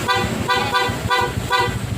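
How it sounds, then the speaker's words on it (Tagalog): Aftermarket PIAA car horn, wired alongside the stock horn, honking in short repeated blasts, about four toots in quick succession, loud and close over a low engine rumble. "Busina."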